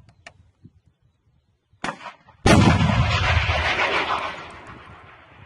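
Missile fired during combat against Russian tanks: after faint clicks and a brief burst, a loud sudden launch blast gives way to a sustained roaring rush that slowly fades, close by, with no talk over it.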